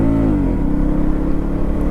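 A 2024 Husqvarna Vitpilen 250 motorcycle engine revving steadily nearby, a loud continuous drone that dips slightly in pitch before holding a rough, even note.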